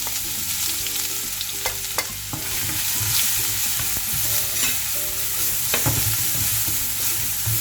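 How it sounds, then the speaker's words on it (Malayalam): Crushed ginger and garlic fry in hot oil for a Kerala fish curry, giving a steady, close sizzle broken by stirring scrapes and clinks, with a soft tonal backing underneath. "നമുക്ക് അതിലോട്ട് ഇഞ്ചിയും വെളുത്തുള്ളിയും ചതച്ചിടാം."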